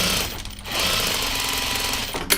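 A sewing machine stitches fabric for a laundry basket, running in a fast, steady mechanical chatter close by, with a brief pause near the start and a sharp clack at the end.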